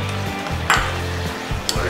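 Boiled peas and paneer being stirred into rice in a hot tawa for Bombay tawa pulao, with a steady sizzle and repeated scraping strokes of a spoon against the pan.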